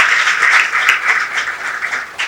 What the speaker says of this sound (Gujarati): એવા બ્રિજેશભાઈ ધામેલિયાને જોરદાર તાળીથી વધાવીએ